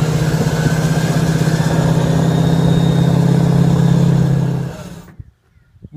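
Truck engine fitted with an exhaust stack, idling loudly with a deep steady rumble and drone for about five seconds before cutting off abruptly, followed by faint rattles and near silence.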